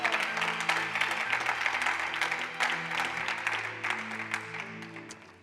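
A church congregation claps steadily in praise of God, with dense, sustained applause and a held musical tone underneath, fading toward the end.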